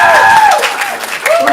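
A student stand-up showcase audience applauds and cheers for the blue team, a loud burst of clapping mixed with whoops and shouted voices that dips briefly before swelling again.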